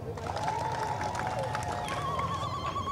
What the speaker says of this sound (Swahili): Tujipige makofi.